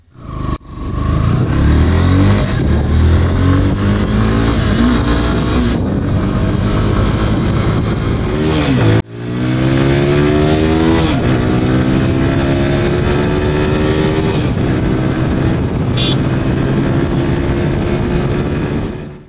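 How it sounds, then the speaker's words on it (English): A loud TVS Apache RTR 160 4V BS6 motorcycle engine with a crisp, deep, bassy double-barrel exhaust note, revving up and down steadily with a brief break midway, no talking. "The exhaust note is also crisp and bassier than the FZ."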